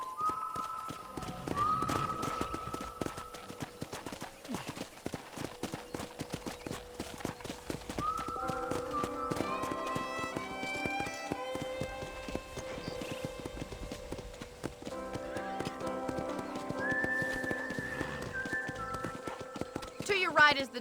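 Hooves clip-clop at a steady pace in the game Red Dead Redemption beneath background music, and a horse whinnies briefly.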